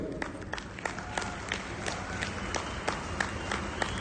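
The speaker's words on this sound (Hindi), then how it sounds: "ये ताली बजाने तो ठीक से बजाओ भाई" An audience at a direct selling seminar claps together with sharp, rhythmic, evenly spaced claps over a murmuring crowd, moderately distant.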